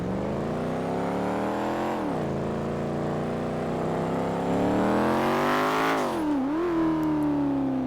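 Modded C7 Corvette V8 fitted with a turbocharger revving in GTA V, a loud, steady engine drone that climbs, drops back, then surges again near the end with a brief dip, close and alone with no talk.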